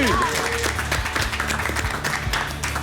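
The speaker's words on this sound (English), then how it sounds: "Please give our contestants a round of applause." An audience at a televised cooking competition applauds the contestants, a dense patter of clapping running under a host's voice and background music.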